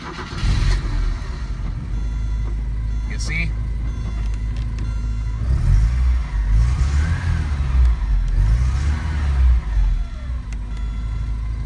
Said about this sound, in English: when I actually start this car,